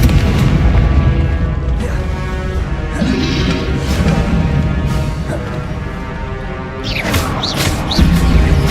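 Confringo and Bombarda spell blasts in Hogwarts Legacy gameplay, loud booming explosions and crashes in rapid succession over a dense, continuous game soundscape.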